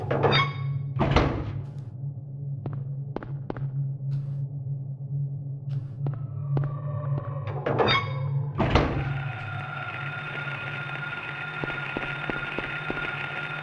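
In the Silent Hill video game, a basement key unlocks a door: a series of sharp mechanical clicks and thunks over a low steady hum, ending in a louder clunk followed by a sustained tonal drone.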